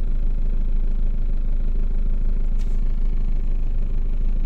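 A huge car's engine idles on a narrow street, a steady loud low rumble that holds without change and carries no voices.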